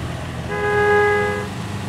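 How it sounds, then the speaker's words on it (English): A car horn honks in a PUBG match: one steady, tonal toot of about a second, loud and close, rising over the low rumble of the game's surroundings. "This honk is much louder than the other honk."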